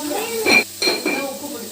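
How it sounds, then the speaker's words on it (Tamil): Onion, green chilli and tomato sautéing in a pan for fish curry, with a few close scraping stirs over a low sizzle and some pan clatter. "இப்போ வெங்காயம் வதங்கிட்டு மீன் குழம்புக்கு பச்சை மிளகாவும் தக்காளியும் போட்டு வதக்கி"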